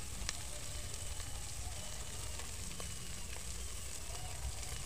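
Capsicum sizzling as it fries in a pan with omena fish, a steady dense crackling hiss running continuously at close range with faint sporadic pops and no talking over it.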